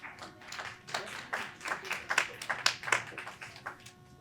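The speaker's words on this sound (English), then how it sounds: "we're gonna have to clap it up a lot more" A small audience at a community network meeting claps unevenly, with scattered individual claps in an irregular rhythm, nearby and moderately loud.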